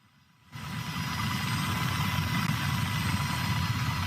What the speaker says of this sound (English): The Arizona National Guard deployed a crew on a Black Hawk helicopter for this dangerous mission.